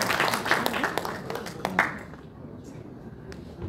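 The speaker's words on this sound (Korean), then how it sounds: "큰 박수 부탁드리겠습니다" Brief applause at a football association's inauguration and awards night, a short flurry of clapping that thins out after about two seconds, leaving quiet room sound.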